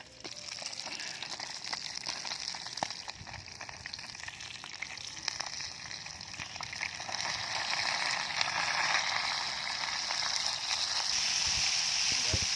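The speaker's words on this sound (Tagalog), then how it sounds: "Prito tayo ng isda" Fish fries in a pan, giving a steady, dense sizzle and crackle that holds fairly evenly and grows slightly louder toward the end, with no talking heard.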